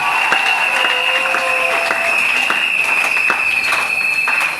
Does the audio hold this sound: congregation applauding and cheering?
yes